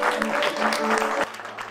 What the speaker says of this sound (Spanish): ¡Venga figurantes, aplaudid! ¡Aplaudid más! ¡Más!